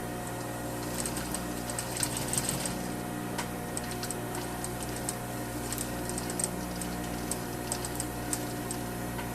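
A sewing machine stitching the placket of a polo shirt, running steadily close by with a fast rapid ticking of the needle over a constant motor hum.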